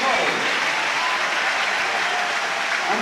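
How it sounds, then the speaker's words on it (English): Rugby crowd at a Leicester versus London Irish league match applauding Dan Cole's substitution: a steady, dense wash of clapping from a large stadium audience, with a commentator's voice faintly underneath. "here's the applause"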